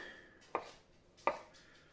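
Two crisp, separate knife cuts through an avocado on a board, evenly spaced about a second apart, close and clear against a quiet kitchen.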